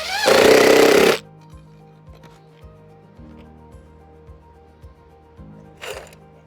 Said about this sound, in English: Okay, put some screws in. 4 screws per 5 feet.